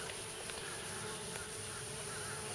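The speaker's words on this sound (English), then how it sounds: "So we have caught this swarm" A swarm of honey bees settling into a hive box baited with a lure, giving a steady, dense buzzing hum that holds evenly close by throughout with no talking.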